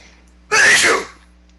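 One loud, close human sneeze, a single explosive burst lasting about half a second over quiet room tone, with no talking.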